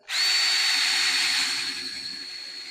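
A Ryobi or Craftsman cordless power drill bores into a workpiece during a speed comparison, a steady high whine starting abruptly and holding loud and close for nearly three seconds before easing slightly, with no talking.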